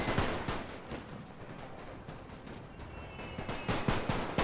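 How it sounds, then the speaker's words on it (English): Artillery and machine-gun fire in The Great War, rapid bursts of shots and distant booming impacts rolling together in a continuous, moderately faint barrage, without speech. "The artillery fire landing all along the line of the Austro-Hungarian positions"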